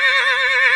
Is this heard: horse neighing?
yes